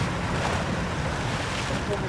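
A truck in the SnowRunner video game wades through deep swamp water in second gear, giving a steady, continuous sloshing and churning rush with a low rumble underneath and no clear breaks.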